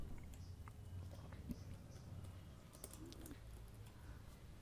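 Keystrokes tapped on a computer keyboard while entering PHP code for a WordPress theme, faint scattered clicks over a steady low room hum, no talking.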